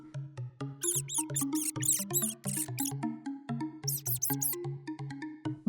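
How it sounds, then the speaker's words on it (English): Rapid high squeaks and chirps from a rat come in quick irregular bursts, some clustered and some single, fairly close and clear, with no talking. "Rat"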